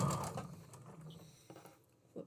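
A sewing machine stitching a seam along a fabric edge, its motor whirring steadily and loudly at first and then trailing off into quieter mechanical ticks, with no talk.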